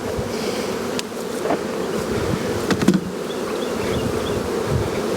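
Honey bees from a colony at an open hive drone in a thick, continuous buzz close by, with a few individual bees flying past.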